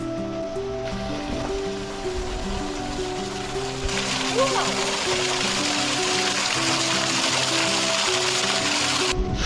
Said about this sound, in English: let's check out this waterfall